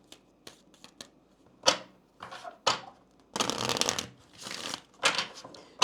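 Kipper cards shuffled by hand during a tarot-style reading: several quick riffling bursts of papery flutter and soft slaps, separated by short pauses, close and fairly crisp with no voice.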